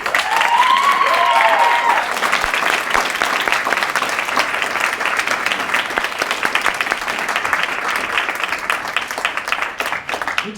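Student speakers get a round of applause at a school's final speeches event. The crowd claps loudly and steadily throughout, with a whistle-like cheer near the start.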